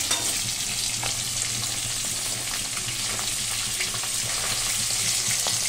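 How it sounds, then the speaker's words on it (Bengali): Three pieces of fish rubbed with salt and turmeric fry in a pan, giving a dense, even sizzle that holds steady and loud at close range throughout, with a few faint crackles and no voices. "এই যে 3 পিস মাছ আমি ভাজা করতে বসিয়ে দিয়েছি।"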